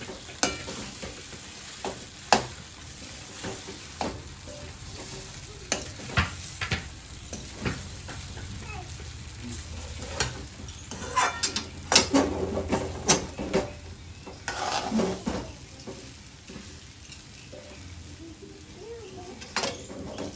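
A cooking mixture stirred in a pan over low heat: steady soft frying sizzle under repeated scraping strokes and occasional spoon knocks against the pan, close and continuous, with people talking over it.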